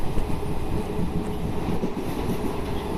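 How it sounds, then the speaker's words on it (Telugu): Amaravati Express train running on the Narasapur to Hubli route, a steady dense low rumble of wheels and carriages, loud and close throughout with no talk. "అమరావతి ఎక్స్ప్రెస్ ఇప్పుడు మనం ఇప్పుడు చూస్తున్న ట్రైన్."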